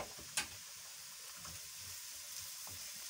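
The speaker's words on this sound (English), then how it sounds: "I'll add my ginger and garlic then you mix until they are tender" Ginger and garlic sizzle in a pan with a steady bright hiss, broken by one sharp utensil tap early on and faint scrapes of stirring, close and unaccompanied by voices.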